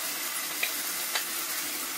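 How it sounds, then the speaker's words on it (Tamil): Previously fried tomato is stirred with onions in a pan, giving a soft, steady sizzle with a couple of faint scraping clicks from the spoon, quiet and close. "வெங்காயத்தோட சேர்த்து டொமேட்டோவை மிக்ஸ் பண்ணுறேன்"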